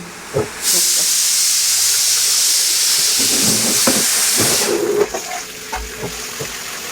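Tap water runs in a strong hissing stream over raw chicken being washed, starting after a brief pause and stopping near the end, with light clatter and handling sounds around it.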